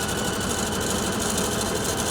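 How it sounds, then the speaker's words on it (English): A Pfaff Icon sewing machine runs a pattern repeat stitch at a steady, continuous mechanical hum with a fast, even needle rhythm, close and unbroken with no voice. "if we touch the pattern repeat button, what it's going to do is it's going to sew one of those and it's going to stop"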